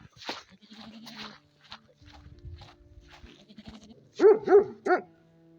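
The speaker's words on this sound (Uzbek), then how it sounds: "Qo'ylar o'tlayib yuribdi shunday." Three short sheep bleats near the end, loud and close, after a stretch of quiet movement and faint background noise, with the sheep out grazing.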